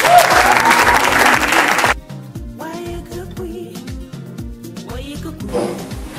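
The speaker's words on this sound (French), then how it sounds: "Est-ce qu'on peut encore acclamer?" A large audience at a master class in Yaoundé bursts into loud, dense applause and cheering that fills the first two seconds and then cuts off abruptly, leaving quieter scattered sounds.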